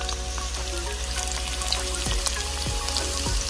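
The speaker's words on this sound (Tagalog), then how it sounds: "Igisa muna natin ang ating sibuyas, bawang," Onion, garlic and ginger sauté in a pan for a chicken stew, a steady close sizzle with a few soft stirring scrapes and no talking.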